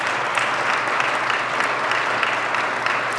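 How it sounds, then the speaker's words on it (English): Sustained audience applause at a Canadian Club address by the Hon. Patty Hajdu: a steady, dense wash of many hands clapping, moderately loud and unbroken for the whole stretch, with no voices on top. "yes, go ahead and clap."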